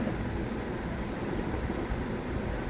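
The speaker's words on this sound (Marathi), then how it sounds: "ट्रेन निघालेली आहे परभणी साईडकडे" Low, steady rumble of a moving train heading toward Parbhani, heard from inside at a window seat, a constant rolling drone with no voices.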